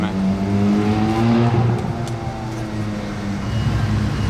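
A Bugatti Mistral supercar rumbles past nearby in Monaco, its low growl rising and settling over a few seconds amid street noise.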